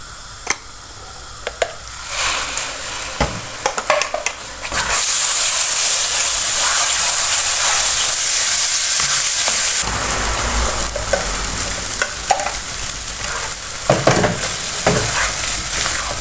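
Paneer-and-kofta curry gravy with masala and Kitchen King spice frying loudly in oil in a pan, a continuous close sizzle with intermittent scraping stirs and spoon knocks, no talking.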